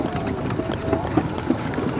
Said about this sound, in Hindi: घोड़ा गाड़ी चलाते हुए। ये घोड़ा नहीं, ये घोड़ी है बेसिकली।